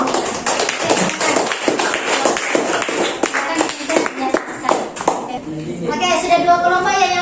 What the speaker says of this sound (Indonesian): Silakan berikan tepuk tangan pada kelompok yang